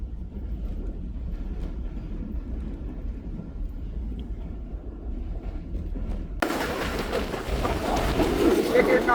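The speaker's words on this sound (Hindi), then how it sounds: "पाली जानी रेलवे स्टेशन पास कर रही है ट्रेन" Inside the 48 Down Rehman Express passenger train as it passes Pali Jani railway station between Rohri and Hyderabad: a continuous low rumble of the moving carriage swells into a louder, windy rushing roar for the final few seconds.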